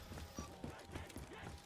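Horses pulling carriages in the Black Ops 3 Zombies video game make a faint, quick series of rhythmic hoof clip-clops, heard quietly and evenly spaced throughout.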